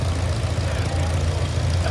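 A Farmall tractor engine idles at a steam and gas show parade, a low rumbling chug that stays steady and close for a brief moment.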